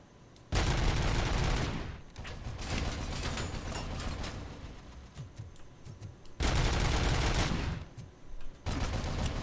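Heavy automatic fire from snipers and a turret in the video game Robocop: Rogue City, arriving as long loud bursts separated by quieter mechanical clatter.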